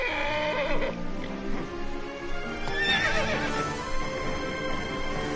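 A horse in the video game Kingdom Hearts 3 whinnies loudly with a long, shaky neigh, alongside hoofbeats and a busy background score.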